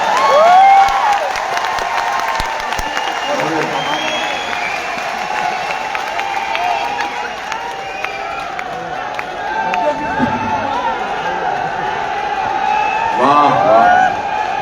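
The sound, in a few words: crowd applauding and cheering at a rally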